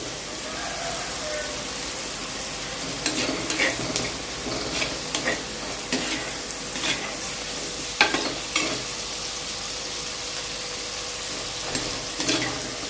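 Onions with curry leaves sautéing in oil in a pan for crab gravy, a steady close sizzle with repeated scraping stirs of a spoon against the pan throughout.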